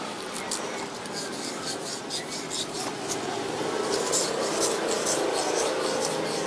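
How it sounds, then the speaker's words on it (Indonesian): Sandpaper rasps against a rusty shaft on a desk fan in repeated short back-and-forth strokes, close and fairly quiet, with a voice speaking intermittently. "kalian amplas saja."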